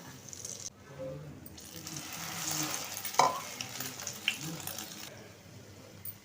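Stuffed millet bread roasts in a pan, cooked on both sides with a soft steady sizzle, a few light scraping and clinking touches over it and quiet background sounds.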